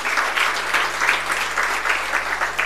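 An agricultural conference audience claps in a steady, dense round of applause, moderately loud and continuous, with a low electrical hum underneath and no talking.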